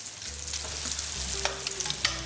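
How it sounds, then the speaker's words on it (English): Roast potatoes sizzle in a hot pan for a Christmas dinner, a steady broadband frying hiss with scattered crackles and the scrape of stirring, close and moderately loud throughout with no talking. "I just have to hear a potato sizzling in the pan and I start to salivate."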